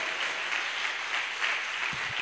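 Church congregation applauding during a sermon, a brief, even patter of clapping from a room full of people, moderately loud, with a few low thumps near the end.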